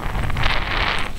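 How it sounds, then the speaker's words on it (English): Strong wind roaring across the microphone on a boat, a continuous rushing buffet with no voices. "the wind really picked up and we're getting pushed along really fast"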